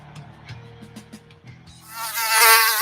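A mosquito whines in a skin-protection advert, its thin buzz rising and swelling loud and close after a few soft knocking and tonal sounds.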